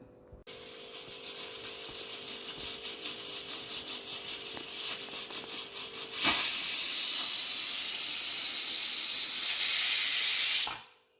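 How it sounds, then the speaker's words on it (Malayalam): Steam escapes from a pressure cooker holding tender jackfruit masala curry. A sputtering hiss builds for several seconds, then breaks into a loud, steady rush of venting steam that cuts off abruptly near the end. "നമുക്ക് അടച്ചു വെച്ച് ഒരു വിസിൽ വരുന്നത് വരെ വേവിച്ചെടുക്കാം"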